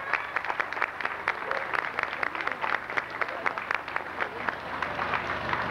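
An audience at a 50th anniversary celebration applauds new members, a steady close burst of many hands clapping that continues evenly for several seconds.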